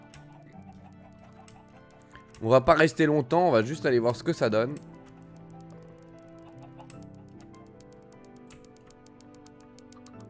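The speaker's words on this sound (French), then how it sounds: "Est-ce que vous entendez le bruit de ces poules" Chickens cluck loudly in the MultiCraft video game, a dense burst of rapid, overlapping squawks lasting about two seconds, set among quieter game ambience while someone talks.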